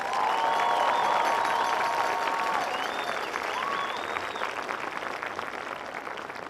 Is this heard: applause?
yes